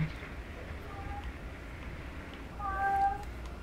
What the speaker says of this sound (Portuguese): Esse é um gato?